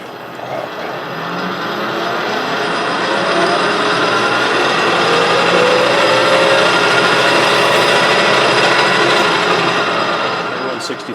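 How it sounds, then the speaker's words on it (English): A 3/8 spotting drill cutting metal on a lathe gives a steady, loud, hissing whir that swells slightly and holds for several seconds, then eases off at the end, with no voices. "I'm using a 3/8 spotting drill."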